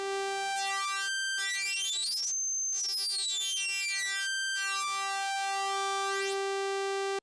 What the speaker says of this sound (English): sweeping the depth there has a sound which is analogous to having two synced oscillators and then sweeping the pitch